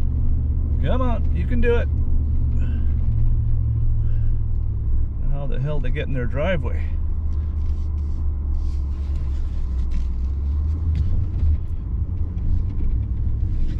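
A Ford vehicle's engine rumbles in a low, steady drone throughout, with nearby voices cheering it on and chatting over the sound.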